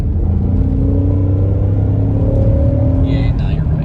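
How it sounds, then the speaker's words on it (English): A 2022 Ford Mustang EcoBoost engine revs with a deep, V8-like intake note, a loud close rumble with rising tones that runs throughout while people talk over it. "Yeah, but it sounds like a V8 though."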